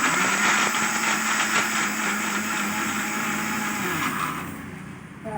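A kitchen mixer grinds washed eggshells into powder, a loud continuous whirring motor drone with gritty rattling that holds steady and then winds down near the end.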